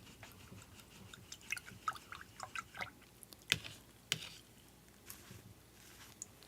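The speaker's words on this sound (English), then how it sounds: "Wiping off my brush, just go ahead and rinse that off." A paint brush is swished and rinsed in a water container, giving faint, close, irregular drips, splashes and soft taps against the container.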